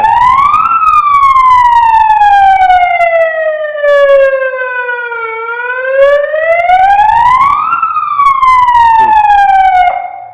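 A loud air raid siren in Birohad village wails slowly up and down in long sweeping rises and falls, steady and close, with nothing else heard.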